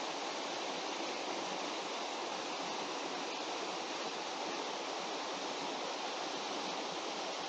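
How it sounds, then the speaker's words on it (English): A tiny waterfall spills into Lake Superior at Noisy Bay, Ontario, giving a steady, broad rushing hiss of falling water that holds even and continuous throughout, with no voices. "And now you can see the waterfall, tiny one."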